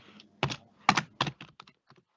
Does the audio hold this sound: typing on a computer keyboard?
yes